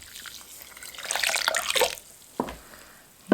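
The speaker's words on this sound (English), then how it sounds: "and then the water, and it needs to be warm water" Warm water is poured into a bowl of yeast and sugar for dinner rolls, a close splashing pour that swells and fades, followed by a couple of short trickles.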